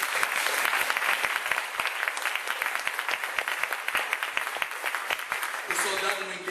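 A church congregation applauds during a sermon, a dense, steady clatter of many hands held for about six seconds, with a voice speaking over it now and then.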